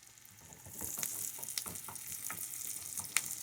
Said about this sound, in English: You just want these onions to get a little soft